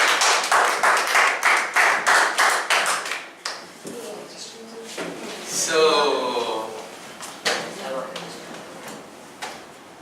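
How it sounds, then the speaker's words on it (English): Audience clapping welcomes a student speaker at a public speaking session, sharp rhythmic claps for about three seconds before tapering off, followed by quieter room sounds and a voice speaking. "Please clap for him"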